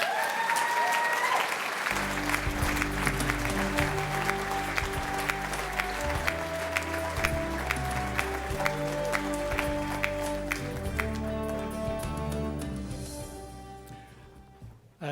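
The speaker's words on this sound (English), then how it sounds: "ladies and gentlemen, please put your hands together for Dr." Audience applause at a life sciences awards event, a dense sustained clapping that runs loud for about fourteen seconds with music playing underneath, then tapers off at the end.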